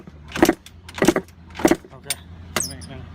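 Repeated kicks on the kick-starter of a Yamaha YZ dirt bike with no compression, about five close, sharp metallic thumps and clatters spaced roughly half a second apart, the engine never catching.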